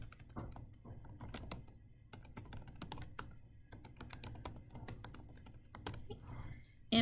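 Someone types into a form on a computer keyboard in quick, uneven bursts of close clicks and taps, with short pauses between runs and no speech.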